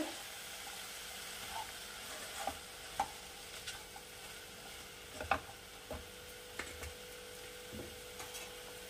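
A spoon stirs chicken and vegetables cooking in a pot as black pepper powder goes in, soft scraping and occasional clicks over a faint sizzle, quiet and close.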